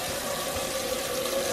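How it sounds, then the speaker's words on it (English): Water runs steadily from a tap to fill ice cream pails halfway while putting up apples, a continuous broadband rushing hiss with no talk. "now you have to fill those up halfway with water"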